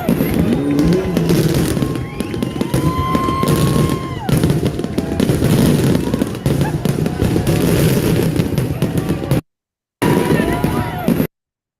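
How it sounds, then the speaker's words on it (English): Fourth of July fireworks crackle and pop continuously in dense, loud bursts, with a few brief breaks near the end and voices faintly under the noise. "Fireworks."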